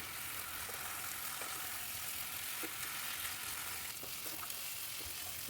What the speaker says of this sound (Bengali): চাল দিয়ে খুব ভালোভাবে মশলার সাথে মিশিয়ে নেবো